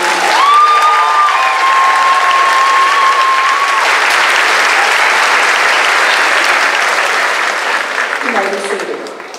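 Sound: graduation audience applause and cheering

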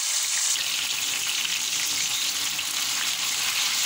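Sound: steam-roasted chicken being lightly fried again

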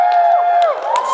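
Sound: audience cheering at dance show

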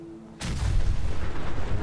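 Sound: explosion in Fallout 4 video game

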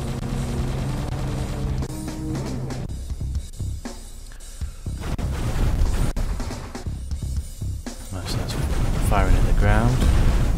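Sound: video game ship weapon firing at the ground, DOGOS

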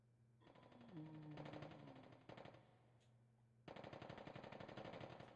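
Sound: gunfire in Resident Evil Survivor, a video game

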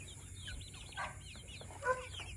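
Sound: Rhode Island chickens clucking

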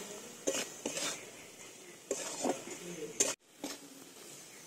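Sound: sautéing spice paste with coriander powder and salt in pan

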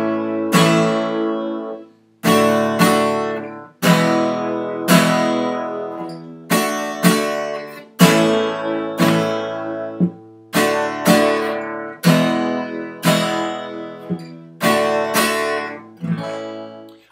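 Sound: guitar playing three chord rock song, A D E

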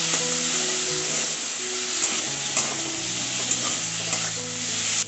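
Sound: spices with green chilli paste being sautéed in a pan

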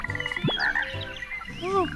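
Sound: frogs croaking in The Plucky Squire video game

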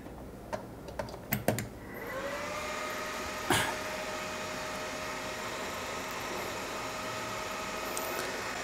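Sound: two cooling fans of a 1500W switching power supply running

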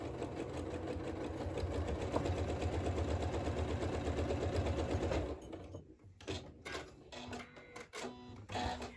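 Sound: sewing machine stitching quilt blocks

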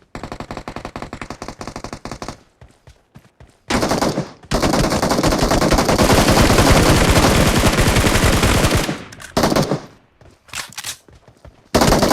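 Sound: gunfire in a video game

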